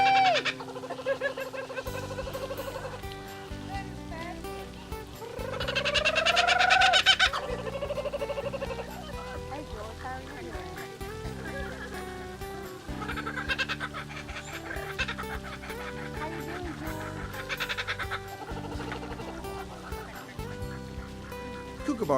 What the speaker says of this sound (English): an Australian kookaburra.